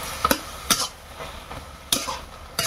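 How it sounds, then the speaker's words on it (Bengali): A prawn and vegetable curry is stirred in a pot in a village kitchen, giving four brief scraping knocks of a spoon against the metal, moderately close and otherwise quiet. "আবার নেড়ে দিচ্ছে।"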